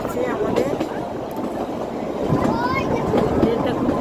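The Kalka to Shimla toy train rumbles and rattles steadily on a mountain track, close and continuous, with faint squeals and a voice speaking over the running noise.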